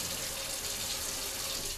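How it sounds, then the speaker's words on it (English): Water runs steadily from a kitchen faucet feeding a Kangen water machine, a continuous close hiss and splash with no pauses and no talking. "you're going to turn that faucet on"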